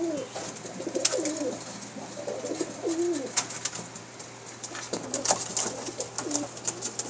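Teddy pigeons coo in repeated low, rolling phrases, close by and fairly loud, with scattered clicks and flutters between the coos.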